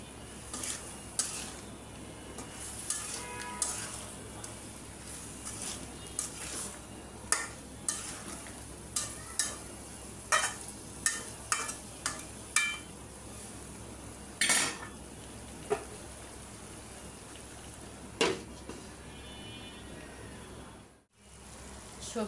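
Mixed vegetables and raw banana are stir-fried in a pan for a fish-head vegetable curry. A spatula scrapes and clinks against the metal in irregular, close knocks over a soft background hiss.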